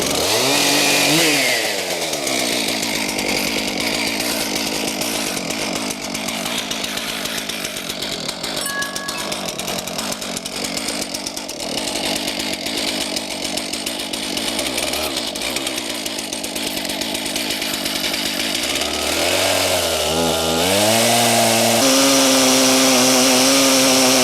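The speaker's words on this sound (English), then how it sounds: "I've got the chainsaw mill set at 3 inches, and we will take an inch off of this" A chainsaw mill slices a wooden slab on a three-inch setting, the saw running loud and steady throughout with engine pitch dipping and rising as the bar works through the wood, then revving near the end.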